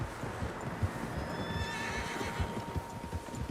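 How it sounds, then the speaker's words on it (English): Horses whinny in the distance in an outdoor scene from the video game Red Dead Redemption 2, one faint neigh rising over a steady low rumble of hooves and ambient noise. "Horses, quite a few of them."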